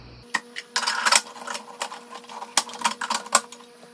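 A 600-watt COOKLEE electric food processor shreds with its coarse disc, rattling and clattering in rapid, uneven bursts over a steady motor tone, close and loud.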